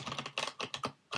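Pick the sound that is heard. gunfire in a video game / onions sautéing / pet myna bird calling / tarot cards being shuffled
tarot cards being shuffled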